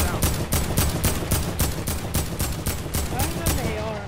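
Gunfire in the Fortnite video game cracks out in a regular rapid string of about fifteen loud shots, close and evenly spaced.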